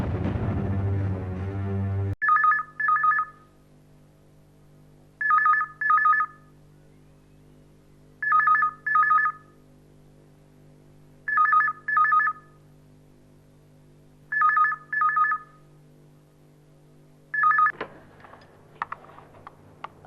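A telephone rings in a quiet room, six paired electronic trills spaced a few seconds apart over a low steady hum, loud and close, after a brief burst of music at the start.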